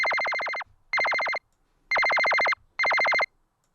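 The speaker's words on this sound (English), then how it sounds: "That is to me a beep." Four bursts of a bright synthetic electronic tone made in the Harmor synthesizer, like a phone ringtone, each holding steady then stopping abruptly with short gaps between.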